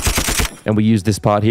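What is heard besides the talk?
machine gun sound effect, chopped up in FL Studio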